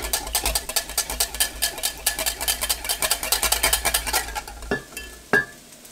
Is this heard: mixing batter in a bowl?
yes